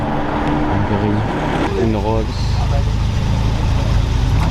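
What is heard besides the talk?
Ferrari Roma car arriving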